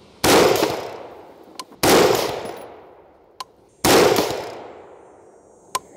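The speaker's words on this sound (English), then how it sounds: "And we'll take another 3 shots here." Three rifle shots fired at a target through a rifle fitted with a Vortex Venom 5-25 FFP scope, each a loud sharp crack with a long decaying echo, spaced about two seconds apart, followed by faint metallic clicks.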